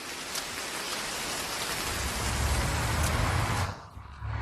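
Heavy rain pours steadily over a construction site during concrete casting, a dense, close hiss that swells and then briefly thins near the end.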